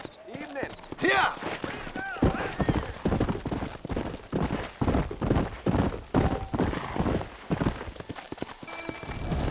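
A horse gallops in the Red Dead Redemption western game, with quick rhythmic hoofbeats in bursts, close and fairly loud, broken by a brief neigh-like cry near the start and occasional voices over the hooves.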